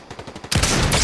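Rapid gunfire in the video game Fortnite, a few spaced shots that burst into a dense, loud, sustained volley of automatic fire.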